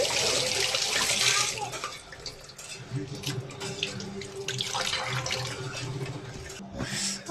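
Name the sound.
tap water running while washing hands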